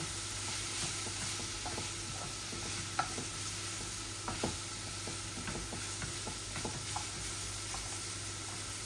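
A steady sizzle of teasel gourd frying in oil, with occasional crackles and soft taps of a utensil in the pan, close and continuous.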